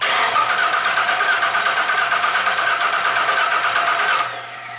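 A Jeep Liberty with a crank-no-start fault cranks steadily and loudly for about four seconds, a continuous churning whir that cuts off abruptly near the end.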